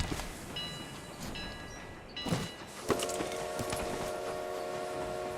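A train rumbles past with a steady mechanical drone, faint squeals and a couple of clanks, continuous and moderately distant.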